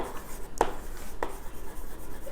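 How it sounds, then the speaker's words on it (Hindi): Pen strokes on paper while a bookkeeping transaction entry is written out, two short scratchy bursts a moment apart, close and fairly clear against a quiet room. "सबसे पहले हम ये वाली ट्रांजैक्शन लिखते हैं यहाँ पर"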